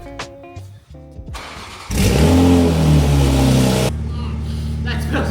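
Toyota Supra with a new downpipe, engine starting and revving hard outdoors, loud sustained roar with rising and falling tones after a few short mechanical clicks, then settling to a rough idle, with a voice briefly in the background.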